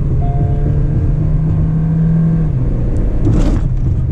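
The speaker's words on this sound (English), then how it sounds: "I'm going to rev the car." A Kia Seltos engine revs in sport mode, a loud steady low drone holding for a couple of seconds before easing off, with a brief higher burst near the end.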